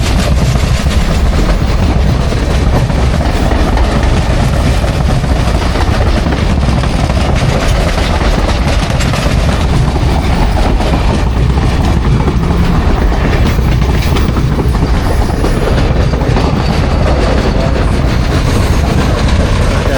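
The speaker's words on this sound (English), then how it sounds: "And here comes the train." A train roars past close by, a loud steady rush of wheels clattering on rails with metallic rattling throughout, no talking.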